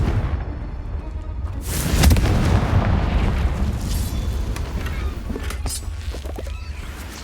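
Confringo blasting spells go off in the Hogwarts Legacy video game, rumbling explosive booms and bursts with a swelling blast near the start and scattered sharp pops afterward, moderately loud.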